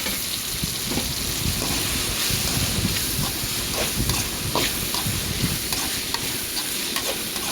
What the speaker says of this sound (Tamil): முள்ளங்கி எடுத்து இதில் ஆட் பண்ணிக்கலாம் ஆட் பண்ணிவிட்டு அதையும் சேர்த்து அதோடு சேர்த்து வதக்கலாம்